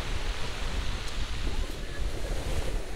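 Sea waves wash onto the beach at a seaside campsite, a continuous rolling surf roar mixed with gusty wind buffeting the microphone, steady and fairly close, with no voices.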